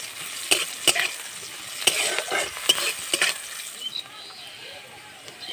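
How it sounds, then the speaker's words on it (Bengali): Chopped onion sizzles in hot oil in a pan, with several sharp scraping stirs of a spatula close up over a steady frying crackle that settles down toward the end. "এখানে আমি একটা বড় সাইজের পেঁয়াজ কেটে নিয়েছি পেঁয়াজটা দিয়ে দেবো"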